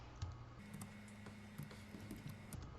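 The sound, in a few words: typing code on a computer keyboard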